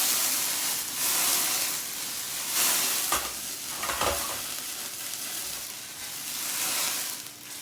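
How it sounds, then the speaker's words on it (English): Brandy flambéing in a pan of steak au poivre as it is swirled, a loud steady sizzle and hiss with surging whooshes of flame and stirring scrapes, close up and with no talk. "we're going to dip it into the flame and let the brandy flambe"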